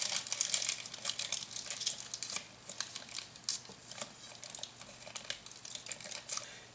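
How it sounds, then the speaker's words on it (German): Two layers of aluminium foil are crinkled and pressed over a shisha bowl, giving a close, continuous run of dry, sharp crackles and rustles. "Das hier wird jetzt abgedeckt mit 2 Lagen Alufolie."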